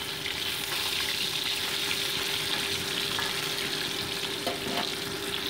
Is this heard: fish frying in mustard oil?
yes